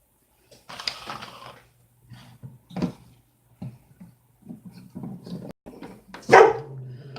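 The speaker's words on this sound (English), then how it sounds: "the doggies are going to start their howling" Dogs bark in a loose, uneven series of short bursts somewhere in the house, with a louder outburst toward the end over a faint background hum.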